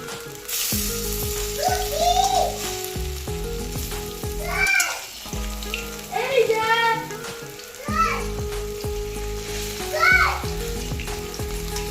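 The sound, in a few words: boras (fritters) frying in oil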